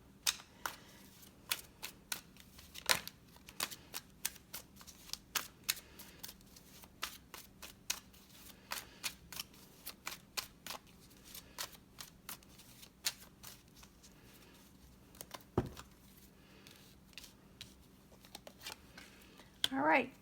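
Tarot cards are shuffled and drawn at a table, giving a quiet run of soft flicks and snaps with a couple of sharper slaps. A faint steady hum runs underneath.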